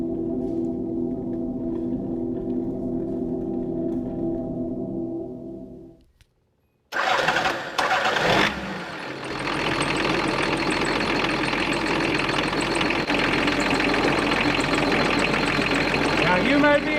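A 2.8 liter inline six-cylinder diesel in a 40-year-old economy car rumbles steadily, cuts out briefly, then restarts and settles into a loud, clattering idle up close.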